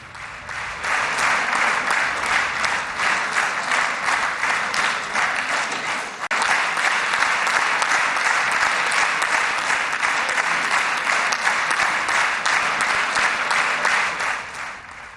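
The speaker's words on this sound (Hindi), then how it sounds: "जब भाषण खत्म हुआ तो इजरायल की पूरी संसद ने खड़े होकर तालियां बजाई।" Sustained, dense standing ovation from the Israeli parliament, loud and steady for the whole stretch with no talking.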